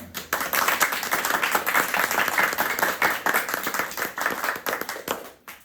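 Applause from an audience after a storyteller finishes a tale, steady broadband clapping throughout, fairly close and lively, fading slightly toward the end.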